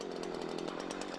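A chainsaw runs steadily at close range while practice-cutting a log, its engine holding a continuous, even, buzzing roar with no pauses and no voices.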